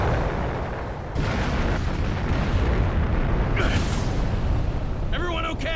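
A detonating flame attack explodes in Naruto Shippuden Ultimate Ninja Storm 3 Full Burst: a loud, sustained roaring blast that swells and rumbles for several seconds, with game voices cutting in near the end.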